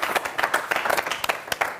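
Scattered clapping from a small group at a mock political party congress staged as a comedy show, with uneven bursts of hand claps and no voices.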